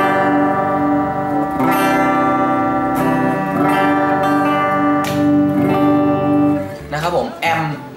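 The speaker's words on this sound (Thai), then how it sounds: "เรามาฟังเสียงคีนกันก่อนนะครับ" A J&D SG electric guitar plays a clean tone through an MPV amp during a sound check, with several strummed chords ringing out and sustaining brightly and loudly, then a few quicker choppy notes at the end.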